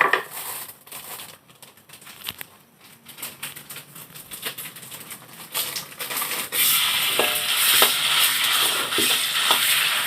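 Red curry paste stir-fried in a pan, with soft scraping and crackling sizzle as it is stirred, joined later by a louder, steady rushing hiss of an extractor fan.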